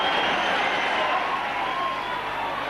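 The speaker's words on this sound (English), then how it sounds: "that's something for the Leeds fans to cheer about there" Leeds rugby league fans in the 1995–96 season cheer and applaud a try, a broad, steady wash of crowd noise heard from a distance that fades slightly toward the end.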